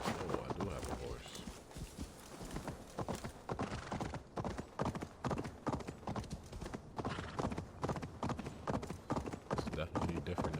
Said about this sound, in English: Oh, I do have a horse.